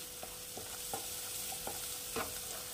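Spices sautéing in a pan for a potato dal, a faint continuous sizzle with a handful of soft scraping stirs spaced irregularly over a few seconds, nobody speaking.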